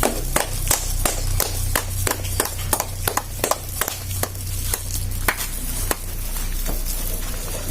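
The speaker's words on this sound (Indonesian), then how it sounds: "Tepuk tangan." Hand clapping at an Indonesian talk-show gathering, sharp irregular claps from a few people over a steady low hum, close and moderately loud, continuing for several seconds.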